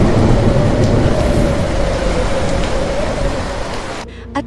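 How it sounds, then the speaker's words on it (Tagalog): Heavy rain pours in a steady, dense broadband hiss that fills the whole stretch and cuts off abruptly near the end. "Isang araw, dumating ang malakas na ulan."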